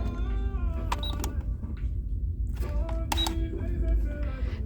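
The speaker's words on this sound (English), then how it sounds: "Here is a Barbie cash register." A Barbie toy cash register responds to a swiped card with a couple of sharp electronic clicks and brief tones over a steady low background hum, with faint mechanical rattles in between.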